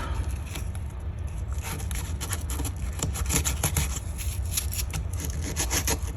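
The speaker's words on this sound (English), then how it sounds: "Trying to polish the liner locks." Hand polishing the liner locks of scout knives, a continuous close rubbing and filing scrape with a faster, busier stroking rhythm in the second half, no talk.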